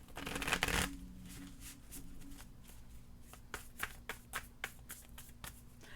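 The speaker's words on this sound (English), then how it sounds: "One more shuffle." Tarot cards being shuffled by hand: an opening burst of riffling, then quieter rustling and a series of soft, sharp card taps, close and fairly faint with no talking.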